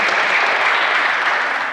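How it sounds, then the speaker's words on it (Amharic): Studio audience applause at a televised Ethiopian quiz show, a dense, steady wash of many hands clapping close and loud throughout, with no talk over it. "አጨብጭቡላት"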